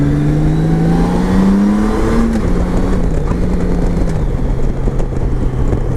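A Honda Goldwing F6B motorcycle's engine drones steadily while riding, its pitch rising, dipping and levelling as the rider shifts, loud and close with wind rush over it and no talking.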